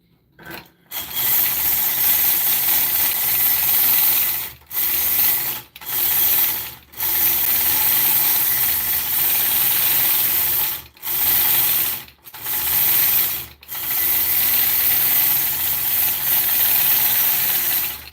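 A sewing machine stitches a curved seam along its concave side, running in steady mechanical bursts separated by several short pauses, loud and close with no talking.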